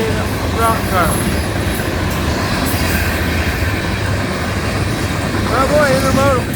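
A long FEC unit train of rock cars grinds steadily past at close range, its constant low rumble broken by recurring metallic wheel squeals near the start and again toward the end.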